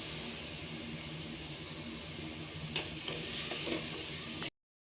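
Onions with a pinch of salt sauté in a pan for a special kudukkachi biryani, giving a steady close sizzle with a few brief scrapes and stirring clinks before it stops suddenly.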